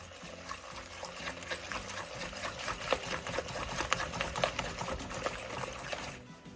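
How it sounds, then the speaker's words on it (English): A whisk beating zucchini bread batter with brown sugar in a bowl, a steady, dense rapid scraping and clattering that runs continuously for several seconds, close up and with no talking. "you want to just break that up and whisk this together really, really well."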